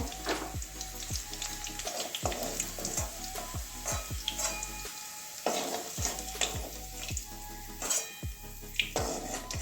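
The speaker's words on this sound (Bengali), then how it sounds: "আলুটাও আমার ভাজা হয়ে গেছে ভেজে নিয়েছি লাল লাল হালকা লাল লাল করে ভেজে নিয়েছি" Potatoes frying in a pan, a hissing sizzle broken by repeated rhythmic scrapes and knocks of a spatula against the pan, close and busy, with no speech.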